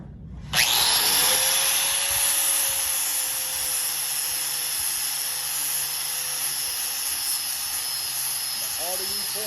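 A power grinder spins up abruptly and runs with a loud, steady high whine as it grinds down a raised spot on a surface, holding constant for several seconds before a brief change near the end.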